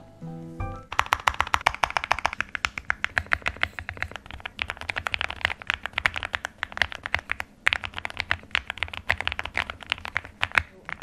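Mechanical keyboard keys with hand-lubed Haimu Yuehua switches clatter in quick, uneven bursts of sharp, muted clicks, heard up close with no voices.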